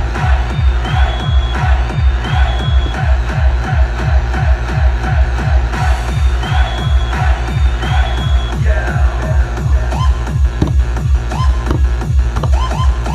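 A swapped crowd noise one-shot fires from a Midi Fighter Twister DJ controller, with cheering and whooping crowd sound riding over a steady, driving four-on-the-floor kick beat throughout.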